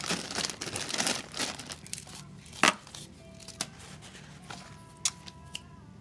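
Tape is torn and handled while crafting a metal masculine steampunk tag, with crinkling and rustling up close, then a few sharp rips and clicks that thin out toward the end, with no talk.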